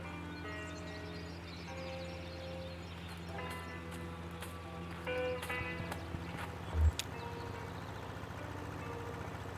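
Horse hooves clip-clop at a steady, unhurried pace in the video game Kentucky Route Zero, set against a sustained ambient musical drone, with a brief louder knock near the end.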